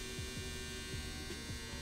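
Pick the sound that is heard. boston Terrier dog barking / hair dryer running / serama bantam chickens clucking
hair dryer running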